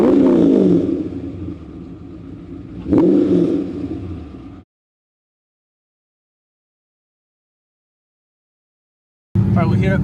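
A V8 car engine with a bigger camshaft revs, two loud rising blips with lumpy low rumble, then near silence before another burst of revving at the end.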